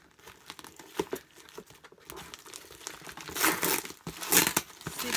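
Cardboard makeup order box from Ulta being opened by hand, with crinkling, tearing packaging that builds from scattered crackles into denser, louder ripping bursts near the end.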